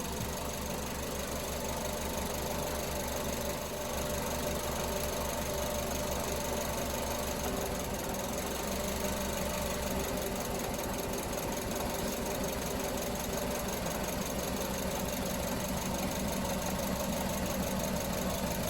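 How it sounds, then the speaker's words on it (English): A car engine idles steadily up close with a misfire causing a rough, uneven knocking in its rhythm, running continuously without any talking. "You'll hear a misfire transpire"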